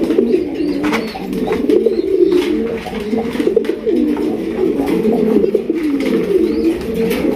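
Raj Golla pigeons coo steadily inside a loft, a dense overlapping chorus of throaty calls from several birds close by, continuous throughout with no talk.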